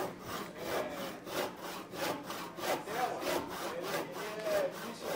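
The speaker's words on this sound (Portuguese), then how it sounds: "E aí sempre manter o serrote perpendicular aqui em relação à base" Handsaw cutting wood in a carpentry lesson, steady rhythmic rasping strokes about two per second, close and continuous with no talk.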